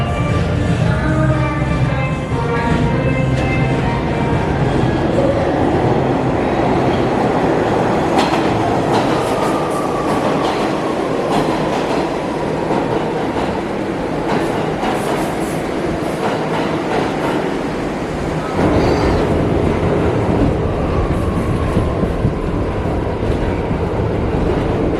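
New York City subway 1 train in motion, a continuous loud rumble with rattling, clattering wheels and squealing rails throughout, heard from inside the car.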